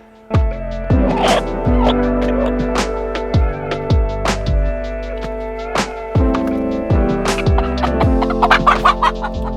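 Chickens clucking and calling inside a chicken coop, a string of close, loud, sharp calls and clucks spread unevenly across the stretch, with a low hum running underneath throughout.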